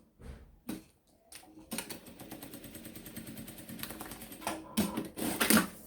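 Sewing machine stitching a transparent vinyl pencil case, heard as a steady close mechanical whir with rapid needle clatter that runs from about two seconds to the end, preceded by short handling knocks.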